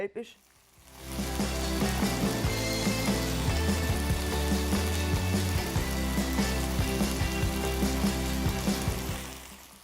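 Chicken pieces sizzle in a pan over medium heat for a spinach chicken pasta, a dense crackling hiss with sharp pops and spatters that rises after a quiet start and fades near the end.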